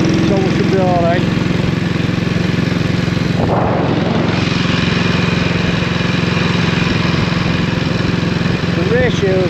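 A 1932 Norton 16H pre-war vintage motorcycle engine runs loud and close with a steady, throbbing drone and slight rises in revs, a voice speaking over it.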